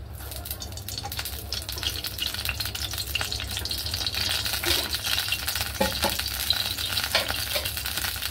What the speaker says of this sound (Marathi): आता कढईमध्ये आपण 2 चमचे तेल टाकूया।